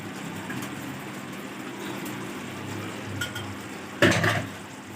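Minced meat for keema karahi being stirred in a pan, with steady scraping and clinking of a spoon against the metal over a soft sizzle and one louder clatter near the end; no one speaks.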